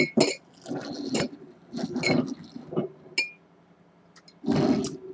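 Ice beer poured into three glasses, with gurgling bursts of liquid and fizzing foam in several separate pours, close and clear with no talk.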